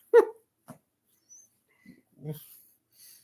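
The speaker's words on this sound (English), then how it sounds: "Poor dog." A dog whimpers in a quiet room, giving a few short, soft whines and faint breathy sounds separated by silence.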